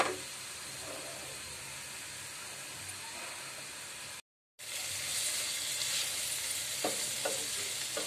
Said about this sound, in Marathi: हे बघा मी ढवळून घेते